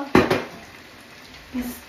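A metal kaldero cooking pot clanks twice in quick succession, loud and close in a home kitchen, then rattles once more softly a moment later, with no talking.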